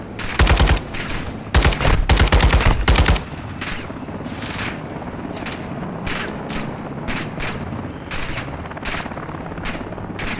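Rapid bursts of automatic gunfire in Modern Warfare 2 Remastered, loud and close at first in dense volleys, then sparser scattered shots and distant rattles continuing through the rest.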